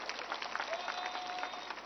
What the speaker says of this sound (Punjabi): ਤਾੜੀਆਂ ਮਾਰ ਕੇ ਹੌਸਲਾ ਵਧਾ ਦੇ ਕੋ ਥੋੜਾ ਜਿਹਾ